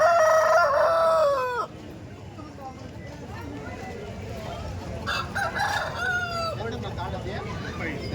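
An Andhra breed rooster crows loudly and close by, two drawn-out calls separated by a few seconds, with a voice and faint farmyard noise in the background.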